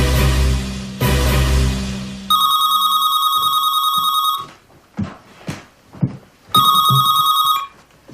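A telephone rings in two bursts of steady electronic trilling, the first starting after some loud low rumbling and the second coming after a gap with a few short knocks and faint sounds.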